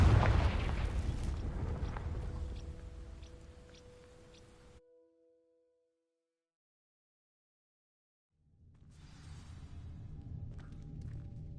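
A Confringo explosive spell erupts with a deep booming blast that rumbles and fades into near silence, then low thudding noise returns.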